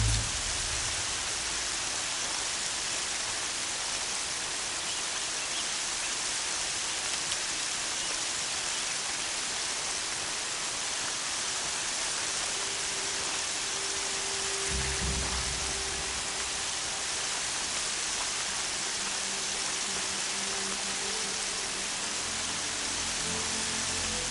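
Steady rain falls for the whole stretch as a dense, even hiss, with a faint low rumble rising briefly partway through.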